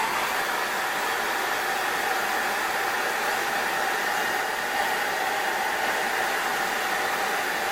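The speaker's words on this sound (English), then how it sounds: "I'm not going to use a heat gun, it's just a standard hair dryer" A standard hair dryer blows hot air onto wax being melted into a leather sheath, a steady, even whooshing drone that runs on without pause.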